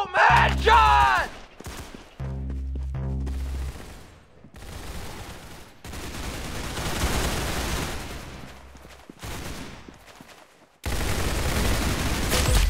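Rapid video-game gunfire from Roblox Arsenal, dense bursts of automatic shots and booms separated by brief pauses, loud and close with some voice underneath.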